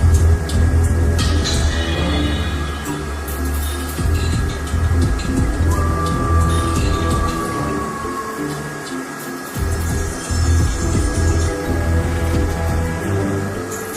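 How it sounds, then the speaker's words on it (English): A HYLA vacuum cleaner runs steadily throughout, a loud continuous motor drone with a faint whine and small fluctuations in airflow, close by and with no talk over it. "If our vacuum can't even draw the lightest napkin inside, do you think it could suck the dust off the I carpet?"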